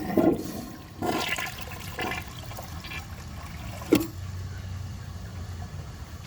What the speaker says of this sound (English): I'm going to wait for that to fill up again and give it another flush.